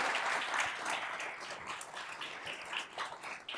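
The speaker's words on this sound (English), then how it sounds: "How about a round of applause for Anna, Peter, and Michael?" Applause from an audience after a regional panel discussion, a dense, fairly quiet burst of many people clapping that fluctuates slightly and holds for a few seconds.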